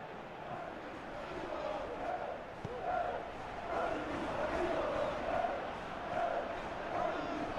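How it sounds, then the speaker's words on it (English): A large football stadium crowd reacts to a near miss, a distant roaring swell of many voices rising and falling in waves, with no commentary heard over it. "you can hear how the crowd are reacting to this too"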